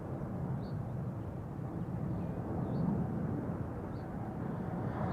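A Boeing 787-10 widebody takes off at Amsterdam Schiphol, a steady broadband jet roar from a distance with a low rumble that swells slightly midway, and no speech.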